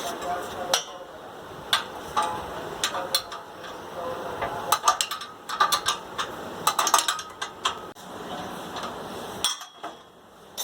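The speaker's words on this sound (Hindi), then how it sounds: "अब एक नीचे जो फाउंडेशन का नट है, इसको मैं अब लूज़ करूँगा ताकि सिलेंसर इजीली बाहर आ जाए।" Wrench work loosening the silencer's foundation nut on a 2.5 kW generator engine during a rebuild, with close metallic clicks, clinks and ratcheting taps in irregular bursts and brief gaps between.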